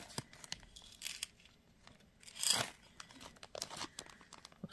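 Beads handled and slipped back into a small plastic bag, giving close crinkling and rustling with one louder crumpling burst partway through, otherwise quiet and without talk.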